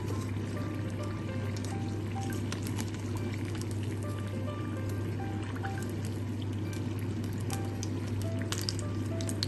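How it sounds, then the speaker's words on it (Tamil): Chicken and vegetable spring rolls fry in hot oil, turned from side to side, giving a steady close bubbling sizzle with a low constant hum beneath, no voices. "ரெண்டு பக்கமும் திரும்பி போட்டு போட்டு இந்த ரோலை பொறிச்சு எடுத்துக்கொள்ளுங்க."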